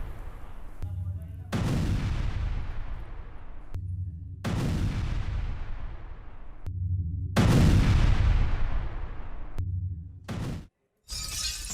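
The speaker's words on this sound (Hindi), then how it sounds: "खार्किव में देखिए कैसे इस ऊंची इमारत पर मिसाइल से हमला होता है और उसके बाद पूरी इमारत में आग" A missile strike on a high-rise building in Kharkiv: several heavy, sharp blasts and crashing impacts in separate bursts, each rolling into a long decaying roar, loud and close, with abrupt cuts between them.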